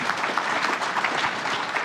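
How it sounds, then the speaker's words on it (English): A conference keynote audience applauds, dense steady clapping from many hands filling the room at full volume. "let us all thank with applause our two heroes of the morning session"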